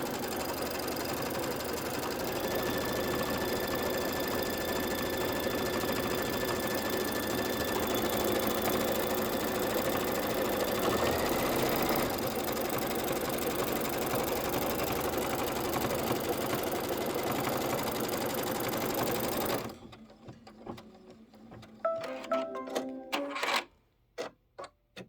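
An embroidery machine stitches a placement line on fabric in the hoop, working steadily with a busy mechanical whir and rapid ticking for about twenty seconds, then breaking into a few sharp, uneven clicks and thumps before going quiet.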